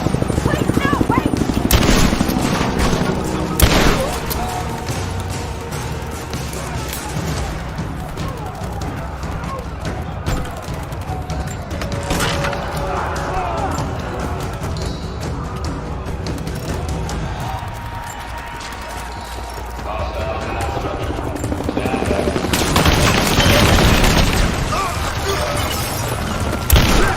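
Gunfire in the video game Rise of the Tomb Raider, with repeated shots and bangs in a loud, busy battle mix. Voices shout over the shooting.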